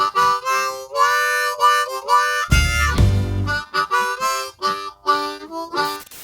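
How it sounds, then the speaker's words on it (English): A blues riff played on a C harmonica: bright reedy draw notes in short rhythmic phrases with quick slides between holes, loud and close, with one breathy low chord midway. "we're gonna tackle it here on our C harmonica, and it sounds like this."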